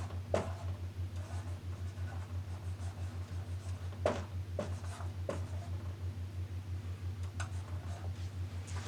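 Marker or pen writing on a board or paper during a math lesson on switching variables, a steady scratching with several sharper taps and strokes over a constant low electrical hum.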